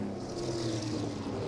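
Super late model race car engine refiring after a stall on the apron of a NASCAR short track, a low steady drone heard from a distance.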